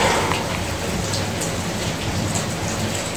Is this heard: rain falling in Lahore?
yes